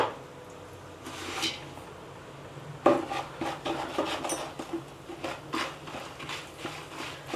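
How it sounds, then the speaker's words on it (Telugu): A spoon scraping and stirring turmeric through roasted poha chivda in a pan, quiet at first, then a run of irregular metallic scrapes and clinks with no talk. "పసుపు వేసి ఇక ఇట్లా మంచిగా కలిపేసుకోవాలి"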